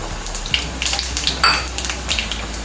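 Mustard seeds crackle in hot oil with garlic while tempering for gongura pappu. Sharp, close pops and spatters ring out irregularly over a steady sizzle, with a faint clink of a utensil.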